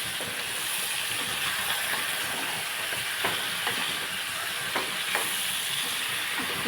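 A pumpkin curry sizzles in a pan while a spoon stirs it, a loud continuous frying hiss broken by a few soft scrapes, close and without speech.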